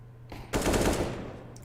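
Gunfire during a Counter-Strike match, a quick loud burst of automatic shots that bursts in suddenly over a low background hum and then tails off with a faint echo.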